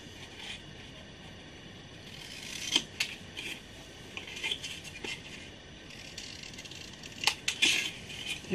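Scissors snipping the four corners of paper for a handmade accordion mini album, a few crisp close cuts and rustles of paper over quiet room tone, with no talking.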